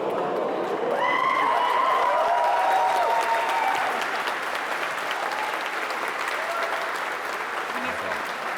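Audience applause after a long recital of digits at a Pi Day hand-calculation event, a dense steady clatter of many hands lasting throughout, with some voices chattering underneath.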